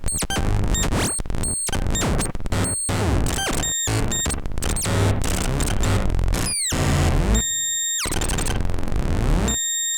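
Harsh power-electronics noise from an Arturia MatrixBrute analog synthesizer, its LFOs modulating each other at random: a loud, dense, chaotic wall of distorted crashes, squeals and abrupt cut-outs, with high whistling tones near the end and no voices.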